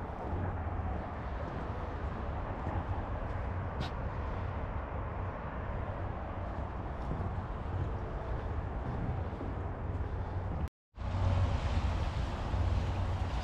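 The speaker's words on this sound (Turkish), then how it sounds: "Yürüyüş yolu üstünde şöyle bir de köprü var. Altından dere akıyor." A stream flows beneath a footbridge on a walking path at Yürüyen Köşk in Yalova. It gives a steady, even rush of water mixed with wind buffeting the microphone, with a brief dropout near the end.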